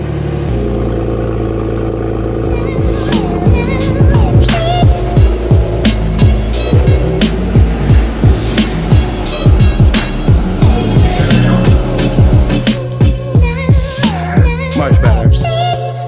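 A Porsche engine fitted with new Soul headers cranks and fires up, then settles into a loud, choppy idle with rhythmic pulsing and occasional revs, close by.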